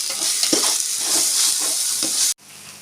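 Green chillies sauté in a pan with ginger and garlic for a hotel-style chicken biryani, giving a loud, steady sizzle with a few stirring scrapes before it cuts off abruptly near the end.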